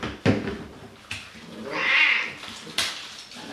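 A cat meows while being bathed, a single drawn-out, fairly loud call rising in the middle, with splashing and handling knocks from the wash around it.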